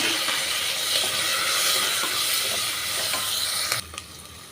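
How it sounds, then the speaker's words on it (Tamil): Onion, ginger garlic paste and tomato sizzle steadily in a hot pan, a dense continuous frying hiss with light stirring scrapes, loud and close, ending with a brief clatter. "இஞ்சி பூண்டு பேஸ்ட்டு சேர்த்துட்டு நல்லா வதக்கிடலாங்க"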